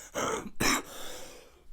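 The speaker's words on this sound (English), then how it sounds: "I might have to edit out some of the hacking and coughing" A person clears their throat roughly and coughs a couple of times, with harsh breathy bursts close by and no speech.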